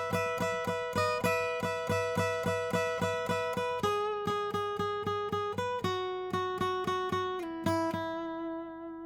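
Guitar plays a section of a song, repeating one rhythmic pattern in clear, evenly spaced plucked notes that ring out alone, with no voices.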